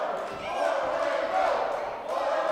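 A wrestling crowd at a WAR Wrestling show roars steadily behind Orlando Christopher, a dense, sustained wall of cheering and shouting that swells slightly and holds for the whole moment.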